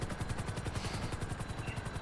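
A helicopter in the video game GTA V Online: its rotor thuds in a fast, steady rhythm close by, with a constant engine whine above it and no voices.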